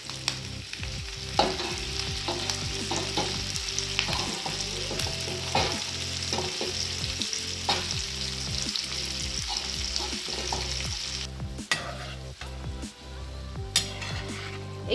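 Onions sauté in a pan for white sauce pasta, a steady close sizzle broken by repeated rhythmic spatula scrapes and taps against the pan.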